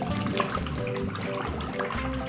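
Water poured over a muddy toy vehicle to wash it, a steady splashing trickle with gurgling bursts, close and continuous for a couple of seconds.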